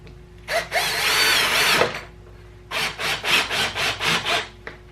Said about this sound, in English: I just take one of these screws, place it through like that, and then just put it in the piece of wood.